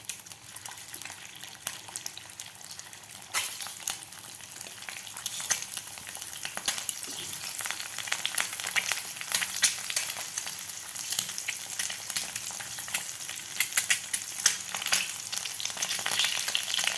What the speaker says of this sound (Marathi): तर तेल आपलं गरम झालेलं आहे तर यामध्ये आपल्याला हे अंडे घालून घ्यायचे आहेत